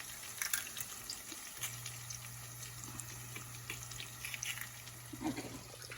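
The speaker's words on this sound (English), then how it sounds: "let me wash my hands." Hands washed under a kitchen tap in a home kitchen, a faint trickle and splash of running water with small irregular spatters, steady and fairly quiet over a low hum.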